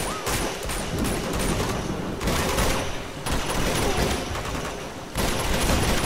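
Heavy gunfire in Uncharted 2 during a fight with enemies, loud dense automatic bursts and rapid shots nearly nonstop, with short breaks between volleys.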